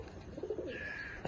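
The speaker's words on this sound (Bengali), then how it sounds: "top quality Payra" Top quality racing pigeons in a loft in Chinsurah, Hooghly give a short burst of low rolling coos, close and moderately loud, with no voices.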